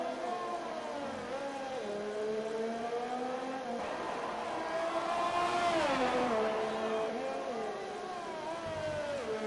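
A Formula 1 car from an F1 racing game screams at full speed down the Singapore straight with DRS open. Its high engine whine holds steady and loud, shifting pitch through gear changes, while a commentator talks over it.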